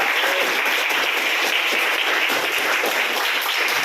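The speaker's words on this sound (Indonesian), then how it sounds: "tepukan untuk kita semua" A classroom full of students applauding together, a dense, steady wash of clapping held evenly for several seconds with no voices over it.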